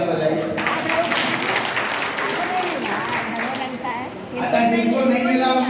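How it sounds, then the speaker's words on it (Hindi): A business-meeting audience gives a round of applause, a continuous rattle of clapping heard under a speaker's voice, which stays prominent throughout and swells louder near the end. "एक जोरदार ताली बजाइए।"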